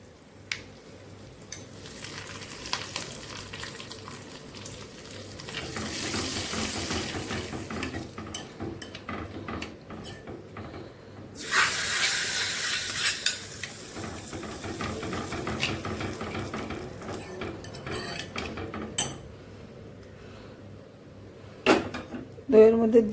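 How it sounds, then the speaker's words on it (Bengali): Hot spice tempering poured into yogurt for Nepali soya chakauni gives a couple of loud, hissing sizzle bursts over a few seconds each, amid kitchen clatter and a speaking voice. "বন্ধুরা, এই ফোড়নটা আমি এখন এই দইয়ের মধ্যে ঢেলে দিচ্ছি।"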